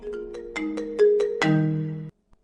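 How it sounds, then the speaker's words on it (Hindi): A phone ringtone plays a short melodic tune of repeated tonal notes for about two seconds, announcing an incoming call from an unknown number, then cuts off into silence. "अननोन नंबर से फोन है।"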